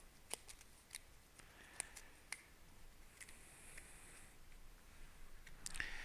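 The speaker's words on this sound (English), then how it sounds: "I'm assuming these just get shuffled back into the mineral deck, which I'm going to do right now." Mineral cards from the ISS Vanguard board game being shuffled back into their deck, heard as a run of quiet, crisp riffling clicks and snaps with short papery bursts spread across the stretch, close and fairly faint.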